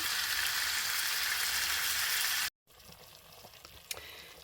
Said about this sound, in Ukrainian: Далі на сковорідці обсмажую з усіх боків